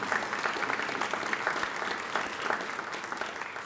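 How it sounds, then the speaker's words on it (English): An audience applauds at a museum exhibit anniversary event in Lubbock, steady sustained clapping from a sizable crowd heard at moderate distance, even and unbroken throughout with no speech over it. "Please give these people a round of applause."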